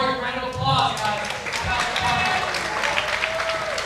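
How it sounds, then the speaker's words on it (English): Crowd applause at a cagefighting event as a fighter is honored, steady clapping filling the room alongside voices at close range. "Chance Morgan, round of applause, guys."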